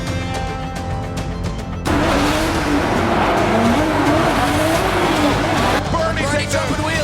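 Drift cars in a tandem battle slide hard into the first corner, tires squealing loudly over roaring engines, with commentators talking at the start before the car noise takes over and stays loud throughout.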